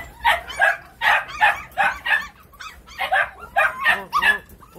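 Several English cocker spaniels yapping and whimpering in eager, repeated bursts close by, with short pauses between the excited barks.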